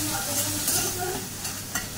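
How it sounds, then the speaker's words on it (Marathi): An onion and tomato mixture sizzles as it is stirred in a pan with very little oil, making a continuous close frying hiss with light scraping throughout. "परतून घ्यायचं आहे व्यवस्थित"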